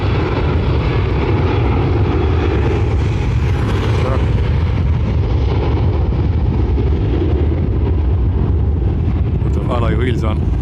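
An airliner landing at Dublin Airport, a broad steady engine roar with wind rumble held loud for the whole span, some rising tonal whine near the end, and talk going on over it.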